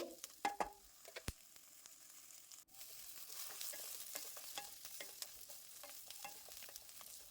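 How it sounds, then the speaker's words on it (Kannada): Roasted gram frying in oil in a pan, a soft steady sizzle with scattered light scrapes and taps of a spoon, faint and close, with no talking. "ಇವನ್ನ ಎಣ್ಣೆಯಲ್ಲಿ ಫ್ರೈ ಮಾಡ್ಕೊಳ್ಬೇಕು ಇವು ಒಂದೆರಡು ನಿಮಿಷ ಫ್ರೈ ಮಾಡ್ಕೊಳ್ಬೇಕು"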